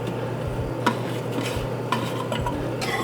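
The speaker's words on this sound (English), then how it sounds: "And whisk that in until it melts" A whisk stirs cheddar cheese into a sauce off the heat in a home kitchen, a soft steady scraping swirl with a few sharper clinks of metal against the pot, close and unaccompanied by talk.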